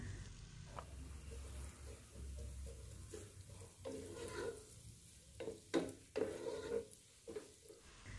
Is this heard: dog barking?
no